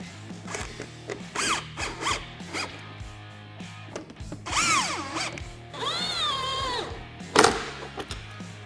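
A power tool tightens fender flare hardware into plastic on a Can-Am Defender, several short whirring bursts with rising and falling pitch, separated by brief pauses and clicks, close and fairly quiet.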